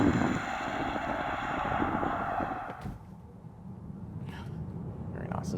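Mini Countryman electric SUV pulling away hard from a standstill and accelerating toward 100 km/h, a steady broadband rush of road and wind noise building loudly, then easing off near the end; no talk over it.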